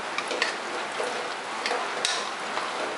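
Squid being stirred in a pan for Thai phad cha, a steady faint sizzle with soft scraping and light utensil ticks spread through, no talking.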